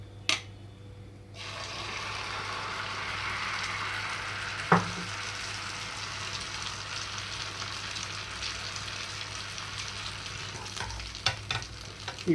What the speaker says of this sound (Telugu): బటర్ని అయితే ఇలా మొత్తం స్ప్రెడ్ చేస్తున్నాను ఇప్పుడైతే ఈ కలుపున్న మిశ్రమం మొత్తం కూడా ఇందులోకి వేసేస్తున్నాను